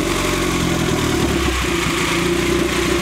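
A Honda B20 VTEC engine in a DB1 idles on open headers with no muffler, giving a loud, raw, continuous low rumble with a slightly uneven throb, close by and without speech.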